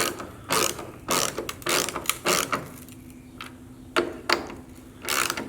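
A ratchet snugging bolts on a Jeep TJ/LJ windshield, several short bursts of rapid clicking near the mic with brief pauses between strokes and no talk.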